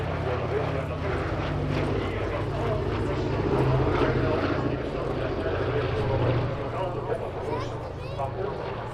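A WW2-era propeller airplane engine at a Duxford airshow, one motor on fire, drones steadily and loudly throughout under continuous talk.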